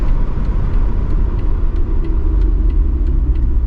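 A 1970 Mercedes-Benz 280SE 3.5 Cabriolet decelerates and downshifts on the road, its engine giving a steady, close, low rumble with faint road noise and no voices.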